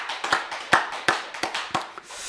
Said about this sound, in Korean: 우리 하나님 앞에 박수로 영광을 돌립니다.